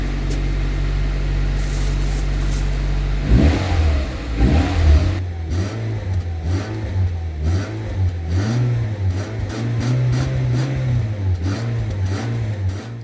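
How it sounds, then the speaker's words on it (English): Up close, a Nissan Micra K11 engine with a dodgy exhaust idles and is then revved repeatedly, rising and falling in several throaty surges over a steady rumble. "Right, let's give it a few revs."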